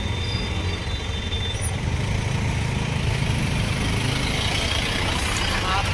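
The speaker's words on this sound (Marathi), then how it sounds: "एवढी ट्रॅफिक आहे" Road traffic in a busy town street, a continuous low rumble of engines with trucks or buses idling and passing nearby, heard under a voice talking.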